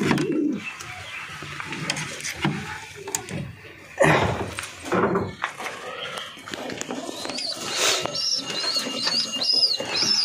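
Aggressive pigeons in their loft, cooing and calling close by, with wing flutters and a knock partway through, over ongoing speech.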